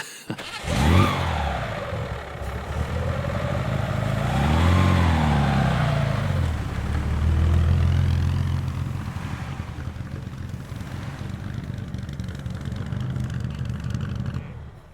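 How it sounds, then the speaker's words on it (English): Vintage competition cars, including experimental racers, drive past one after another; engines rise and fall in pitch as they sweep by at moderate distance, then fade into a steady rumble. "The sounds of the vehicles varied enormously, as you can hear."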